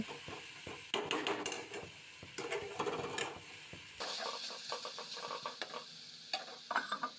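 Carrots and green chillies are stir-fried in a pan, with steady sizzling and repeated scraping stirs that come in short rhythmic bursts, close and moderately quiet, with no talking.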